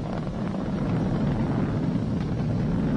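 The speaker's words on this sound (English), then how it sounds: "Vehicle is supersonic. We've exceeded Mach 1 on the Falcon 9." SpaceX Falcon 9 rocket engines during launch ascent past Mach 1: a continuous, even broadband roar with a rough, wind-like texture, heard alone without talk.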